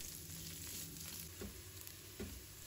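Pork belly and shiitake mushrooms frying in a wok, a steady close sizzle throughout with a couple of soft spatula scrapes and stirs breaking through near the end.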